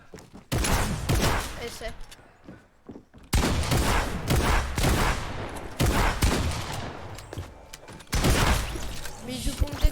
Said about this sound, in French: Mec, tout le monde me tire dessus.